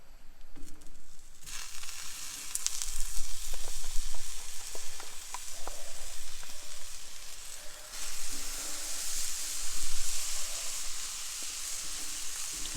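Mushrooms sizzle on a hot Blackstone griddle, a loud, steady close-up frying hiss with faint scrapes and stirring, swelling again midway as more food lands on the surface, with no voices.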